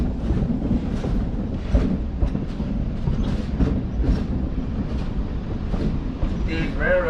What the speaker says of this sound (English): These railroad tracks that you guys are riding on here are called narrow gauge tracks.